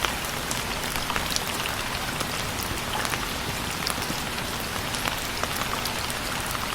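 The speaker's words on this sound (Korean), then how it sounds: "이제부터 빗소리 감상 타임." Steady rain pattering on a surface, dense and even throughout, with scattered louder drops nearby and no voices.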